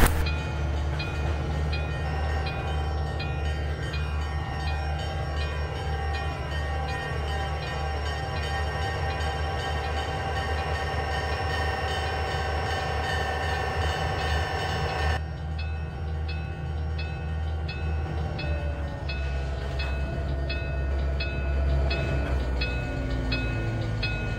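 A train rumbles steadily along the rails, with a sustained droning hum and shifting tonal whine throughout, loud and close, no voices.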